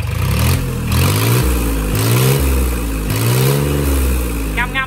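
A 30hp three-cylinder Iseki diesel boat engine revs loudly and steadily nearby, its pitch swelling and easing in repeated surges, with people talking over it.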